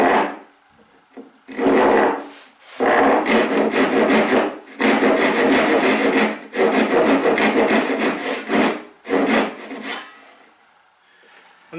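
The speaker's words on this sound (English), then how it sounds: "I can cut the tenons with my dovetail saw" Dovetail saw cutting tenons in wood, close and loud rhythmic rasping strokes in several bursts separated by short pauses, with no talking.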